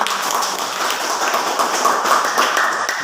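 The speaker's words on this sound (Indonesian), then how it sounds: "Mari kita berikan aplaus." Applause in a classroom, a steady dense patter of many hands clapping at once, fairly loud and close, holding at an even level from start to finish with no voices.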